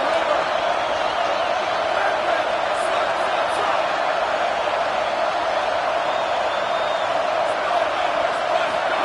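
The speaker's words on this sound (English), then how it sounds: "It's early, but this crowd is fired up. Listen to this noise here." Fired-up college football playoff crowd at Tennessee vs Ohio State, a loud, dense, continuous roar of cheering filling the stadium without letup.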